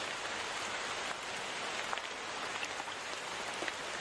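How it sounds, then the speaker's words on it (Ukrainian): Steady rain falls continuously, a soft even hiss with occasional distinct drops pattering close by. "послухай звуки дощу"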